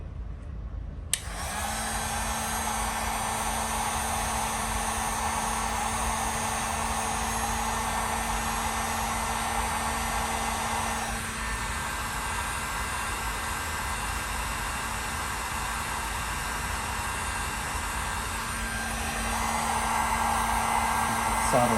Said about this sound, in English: heat gun should be working, so let's do this